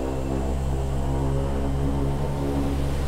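Convair 580 turboprop airliner engines at takeoff power on a snowy runway, a loud, steady propeller drone with strong low harmonic tones throughout, no speech.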